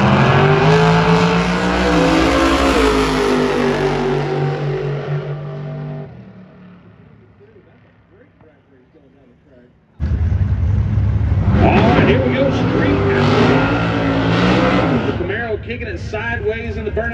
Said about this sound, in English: kicking it sideways in the burnout box